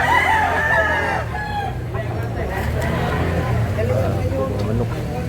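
A rooster crows near the start of the clip at a game fowl market in Consolacion, Cebu, with a busy background of other birds and voices.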